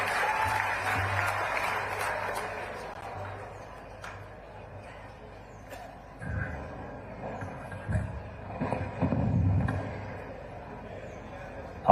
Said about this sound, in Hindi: जोरदार तालियों से एक बार मुख्यमंत्री जी का अभिवादन करते हैं